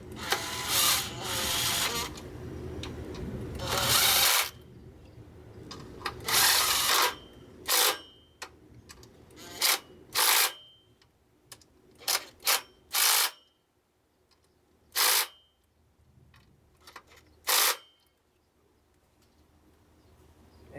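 Ratchet tightening 10 mm bolts on the belt tensioner of a 1997–2004 Ford F-150, heard as repeated short bursts of rapid clicking separated by pauses, fairly close, with quiet gaps between strokes.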